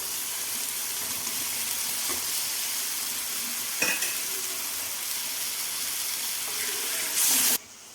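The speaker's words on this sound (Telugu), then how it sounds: "ఎగ్ వేసేసి ఇలా మంచిగా కలుపుకోండి." Boiled egg pieces stirred into a tomato egg curry frying in oil, a steady close sizzle under scraping spoon strokes, with a brief louder hiss near the end.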